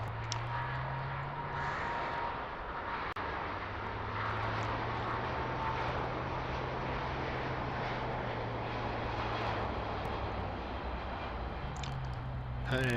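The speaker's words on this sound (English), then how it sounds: "And that's the British Airways going out to Mumbai. It's 350." A British Airways Airbus A350 takes off from Heathrow bound for Mumbai, a continuous distant jet roar with a low droning tone that holds steady throughout.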